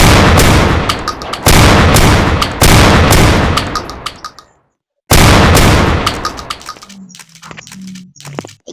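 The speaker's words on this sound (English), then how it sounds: "AK-47." Bursts of AK-47 rifle fire crack out in rapid strings, loud and close, with a brief silent gap before another sustained volley and scattered trailing shots.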